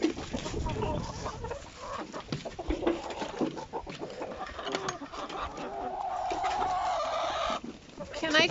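Backyard farm chickens clucking and calling in a busy, continuous jumble, fairly close, with a person talking to them over the flock.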